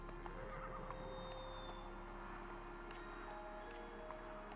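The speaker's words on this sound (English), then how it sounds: "Oh, I do have a horse." A horse neighing in a video game, a loud drawn-out whinny with clip-clop hoofbeats over steady game background noise.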